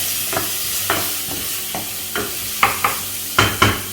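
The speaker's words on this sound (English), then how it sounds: "we're going to take some finely chopped onions and roast them off. Now these have to be nice and brown. So let me give it a quick toss." Finely chopped onions toss and roast in a pan, sizzling steadily under a series of sharp scraping stirs that come roughly every half second and grow louder toward the end, close up and with no talking.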